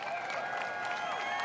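A rally crowd in Butler, Pennsylvania cheers and applauds in a steady, dense wash of sound that holds at an even level for the whole stretch, with no voice standing out.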